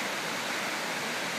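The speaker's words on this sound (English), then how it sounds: "Okay, now I'm down by the river, and you can see all these old stumps" Steady broadband rush of the Elwha River flowing past old stumps, a continuous even wash of moving water, close and fairly full, with no voices.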